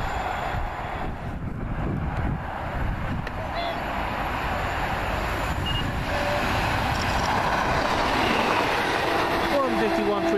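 A Class 150 diesel multiple unit passes at Kearsley on the line toward Manchester Victoria, producing a continuous rumbling roar and rattle that stays loud for the whole ten seconds, with a voice speaking in the background.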